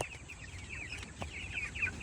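Chickens cluck softly nearby on a mountain farm, short repeated calls over a quiet outdoor background.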